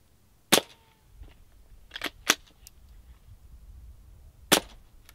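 A few sharp, dry cracks sound at irregular intervals, muffled like rifle shots through a homemade machined monocore suppressor, with faint mechanical clicks of the bolt in between and quiet background otherwise.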